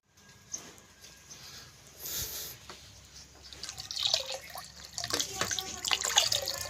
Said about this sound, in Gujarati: જો આ ડોલ ભરાય છે, હવે ભરાય એટલે જઈએ પાણી પીવડાવવા